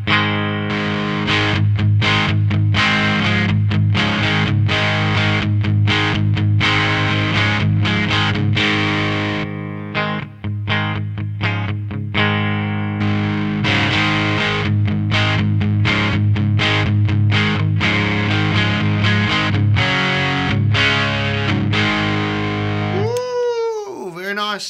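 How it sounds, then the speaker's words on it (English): Electric guitar played through an MXR Distortion+ pedal into a Marshall Astoria amp, with reverb from a Wazza tube amp expander: loud, thick, sustained distorted chords and riffs throughout, ending in a swooping pitch bend. "this is the Marshall Astoria, which is getting its reverb from the Wazza tube amp expander."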